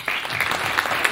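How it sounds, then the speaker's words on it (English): Audience applause following a question-and-answer session, a short, dense burst of many hands clapping close by, steady and loud for about a second. "a big round of applause to them"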